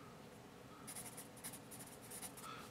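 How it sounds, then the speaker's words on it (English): A graphite pencil, a Moradо Black Warrior tried after an Arteza #2 HB, scratches faintly across paper in a few short strokes, quiet and close with no talking. "test this one out here after writing with the Arteza number two"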